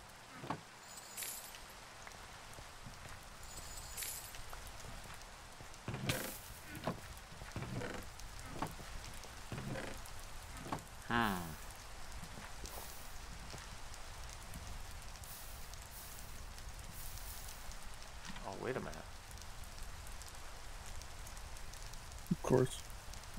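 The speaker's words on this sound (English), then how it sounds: "I can't see in the rain." Rain falling in the video game Minecraft on a modded server, a faint steady patter of raindrops running throughout under occasional talk and scattered clicks.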